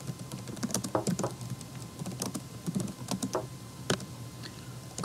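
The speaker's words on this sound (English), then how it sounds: "now you're going to type in the text that you want to appear when your hyperlink is complete" Rapid, uneven clicks of keys on a computer keyboard come through close and clear while someone types text into a spreadsheet, with short pauses between bursts.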